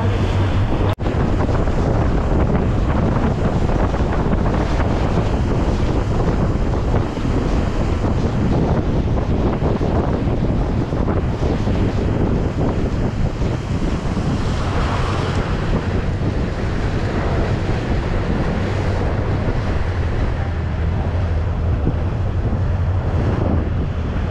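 Strong wind roars steadily and loudly across the microphone, mixed with rushing water and surf, continuous for the whole stretch.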